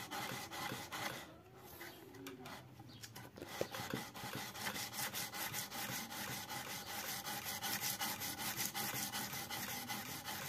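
A wood chisel is rubbed back and forth on a sharpening stone in a fast, even rhythm of scraping strokes. Close and fairly quiet, with a brief pause near the start and no talk.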